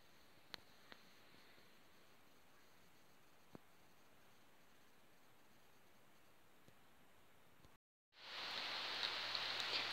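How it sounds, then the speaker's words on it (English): Heavy rain falls outside a cave, heard from within as a faint, steady hiss with occasional sharp drips. After a brief silence it turns abruptly loud and close, like the downpour heard right at the entrance. "Well, I've had to get up because it's proper raining here."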